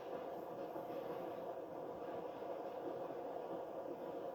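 A roughly 90-year-old train rumbles along with a steady, broad rolling roar and faint higher rattle, very quiet and distant-sounding throughout with no voices.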